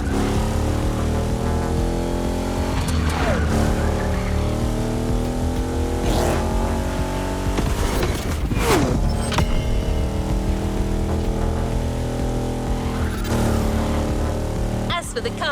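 A Ferrari 308 GTS in The Crew Motorfest, cruising in Hawaii, gives a steady engine drone with rising and falling gear tones, shifting several times, loud and close, with music and talk running over it.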